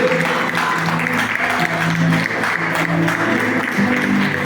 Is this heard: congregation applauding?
yes